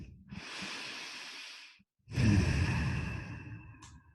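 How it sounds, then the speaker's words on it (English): Two long, deep breaths during a guided mindfulness session: a slow airy inhale, a brief pause, then a louder, fuller exhale or second breath, close to the microphone with no talking. "let's go ahead and take a deep breath in"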